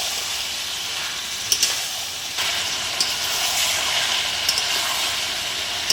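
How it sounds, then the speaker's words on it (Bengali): Chicken and fried potatoes are stirred in a hot pan with coriander, green chillies, curry leaves and salt, giving a steady close hiss of frying with a few sharp scrapes and clicks of the spoon. "ভালো করে নেড়ে নেব।"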